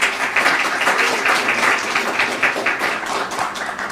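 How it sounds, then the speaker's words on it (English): Audience applause for a startup pitch panel at a tech conference, a steady dense wash of clapping from many hands, close and even throughout with no talk. "Let's give them another round of applause."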